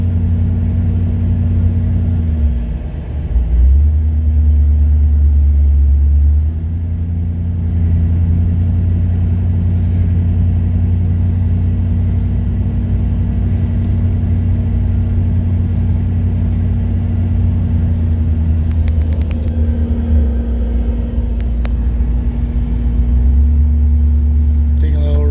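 A 1967 Cadillac with freshly rebuilt engine cruises through a neighborhood, its low steady engine rumble and road drone continuous and close, with a few shifts in pitch, while someone talks over it.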